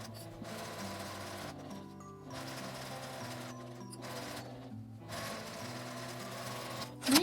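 A sewing machine stitches the top seam of a small cosmetic bag with a 1 cm allowance, running in steady whirring bursts separated by brief pauses, close up with no talking.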